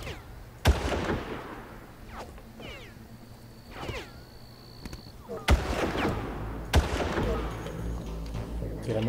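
Gunfire in the video game Far Cry: a few sharp, loud shots spaced several seconds apart, the first early and two more close together later, over a steady bed of game ambience and mechanical noise.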